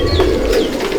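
Pigeons coo on a rooftop loft in Akra, Kolkata, a close, low throaty burbling that rolls on continuously for a second, with faint higher chirps flickering above it and no voices.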